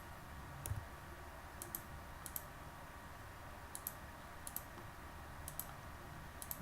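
A computer mouse clicks quietly in quick pairs while working in OrCAD PSpice circuit software, faint crisp double clicks repeating at irregular intervals over a soft background hum.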